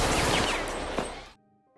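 A gunshot in a film as a German soldier shoots a man, a loud blast followed by a brief rolling echo that cuts off abruptly to near silence.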